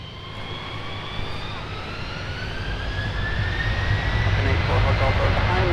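A Delta 152 Heavy jet airliner departs a runway at Minneapolis–St. Paul airport, bound for Paris, its broad engine roar swelling steadily louder with rising whining tones sweeping across it.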